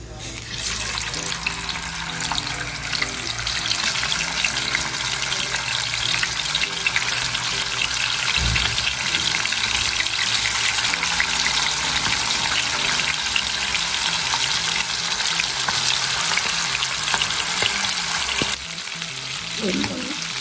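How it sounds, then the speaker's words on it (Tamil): Quail legs fry in hot oil with a steady, dense sizzle and crackle that holds close and loud throughout, with a faint low clatter near the end. "எண்ணெய் சூடானோன்னே காடை காலெல்லாம் முதல்ல வறுத்துருவோம்."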